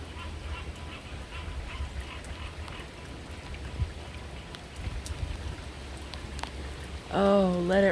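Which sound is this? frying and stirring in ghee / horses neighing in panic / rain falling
rain falling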